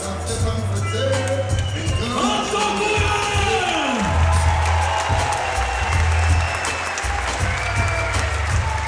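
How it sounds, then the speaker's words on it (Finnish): A cage MMA crowd applauds and cheers loudly and continuously, with whoops and shouts rising over the sustained roar, while a commentator talks over it in Finnish. "Yleisö osoittaa suunnattomasti suosiotaan."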